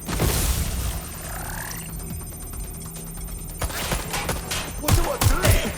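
Rapid bursts of gunfire crackle through a Watch Dogs: Legion firefight, a loud volley up front, a lull, then more sharp shots closing in, with a voice speaking over the action.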